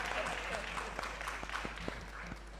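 Audience clapping at a conference panel discussion on mobile technology for development, faint scattered claps from a small crowd heard at a distance for a few seconds.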